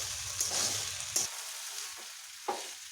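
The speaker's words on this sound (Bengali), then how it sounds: "জল দেওয়ার পরে এইভাবে একটু মিশিয়ে নিচ্ছি সবগুলোকে" Dalia mixture stirred in a pan with hot water just added, a soft scraping swirl with a few sharper utensil knocks against the pan, close and fairly quiet, no talking.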